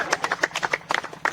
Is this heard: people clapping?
yes